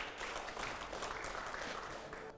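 Applause played as a sound effect during a televised interview: a dense, steady wash of clapping, fairly quiet, with no talk over it.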